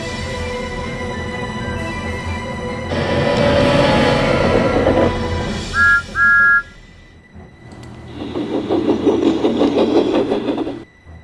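A train engine rumbles and revs up, then two short whistle toots sound before the engine surges again, loud and near.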